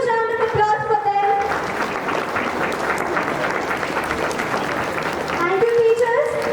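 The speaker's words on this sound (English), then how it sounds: "A huge round of applause for them." An audience at a school swearing-in ceremony applauds steadily for several seconds, with a short music phrase fading out at the start and returning at the end.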